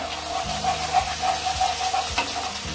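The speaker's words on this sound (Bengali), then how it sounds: "একটু নাড়াচাড়া করে নেব পেঁয়াজ টমেটোর সঙ্গে" Ginger and garlic paste fries with onion and tomato in a pan, a steady close sizzle broken by regular scraping stirs about every half second.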